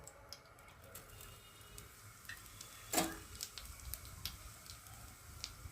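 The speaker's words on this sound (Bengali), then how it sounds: "তেলটা দেখো গরম হয়ে এসেছে, আর এখন আমি দিয়ে দেবো জিরে ফোড়ন" Cumin seeds sizzling in hot oil on a tawa: a quiet crackle of scattered pops over a soft frying hiss, with one sharper burst partway through.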